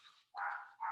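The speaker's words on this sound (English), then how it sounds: "probably hear the dog barking" A dog barks indoors in the distance, a faint rough bark followed by another brief one, heard quietly in an otherwise still room.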